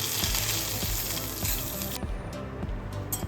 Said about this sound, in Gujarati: હવે આની ઉપર આપણે ફૂલ ગરમ તેલ હોય ને તે આપણે થોડું એડ કરશું